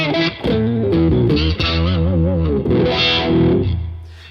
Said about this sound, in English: the preset's called Panther Octave.